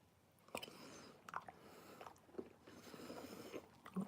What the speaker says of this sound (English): I'm just eating spam and beans at the minute